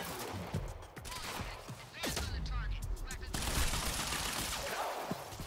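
Sustained rapid gunfire from the Quantum Break video game, dense bursts of shots layered over one another with a voice speaking over the firefight.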